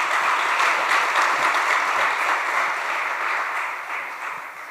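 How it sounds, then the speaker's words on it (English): An audience at a talk show event bursts into sustained applause after a speaker finishes. It is a dense, loud clatter of many hands clapping that holds steady and then slowly tapers off, with no voices over it. "Can we have another round of applause, please, just for him?"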